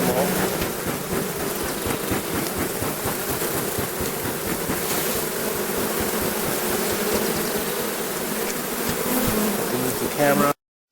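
Honey bees buzz in a bee yard on a warm late-spring day, a dense, continuous close-up drone of many insects that holds steady for about ten seconds before cutting off abruptly.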